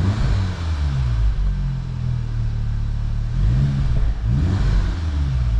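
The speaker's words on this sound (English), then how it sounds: "So let's give it a rev." Volkswagen Golf Mk 7.5 R with DSG gearbox, engine cold, revving hard: a loud, close engine roar that rises and falls through several rev blips, with a deep rumbling tone and no talking.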